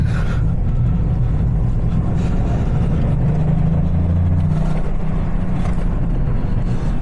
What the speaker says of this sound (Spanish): Vamos a dar una vuelta de reconocimiento, a cogerle un poco el pulso al coche.